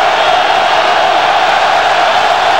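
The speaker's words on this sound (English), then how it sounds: "Crowd getting into it" A football stadium crowd at a 1997 Michigan game, a broad, steady roar of many voices swelling as fans get into the play, continuous and far-spread with no clear individual words.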